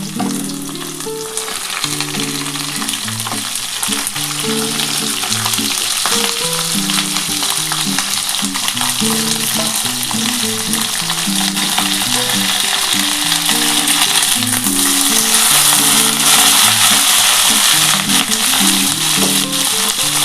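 Tender broad beans and potatoes frying in a little oil for a Bengali vegetarian curry, giving a continuous bright sizzle with stirring noises throughout, under steady background music.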